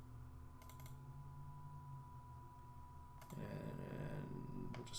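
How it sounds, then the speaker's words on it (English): Computer keyboard keys pressed while setting up a game project on a computer, a few faint clicks early followed by a short burst of quick key taps near the end over quiet room hum. "We hit the escape key."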